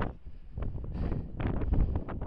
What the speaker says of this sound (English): Wind is strong